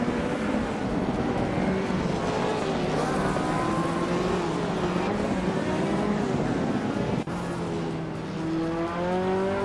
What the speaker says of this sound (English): driving a 1993 Lancia Delta HF Integral